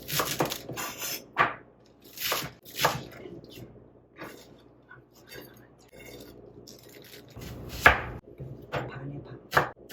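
A knife slices green onion very thinly for a garnish, giving crisp, irregular chopping taps on a cutting board with short pauses between bursts.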